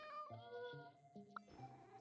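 A cat meows after being petted in the video game Genshin Impact, a short clear mew in the middle of soft game music, close and fairly loud.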